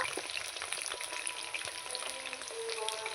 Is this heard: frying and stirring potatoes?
yes